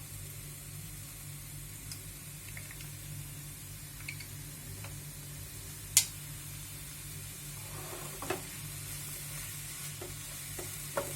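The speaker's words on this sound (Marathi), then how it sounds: "छान परतून घ्यायचा आहे कांदा, आपल्याला गोल्डन ब्राऊन झाला पाहिजे" Onion, mustard seeds and chili frying in oil in a pan for pumpkin bhaji, a low steady sizzle with occasional soft spatula scrapes and a sharp tap near the middle.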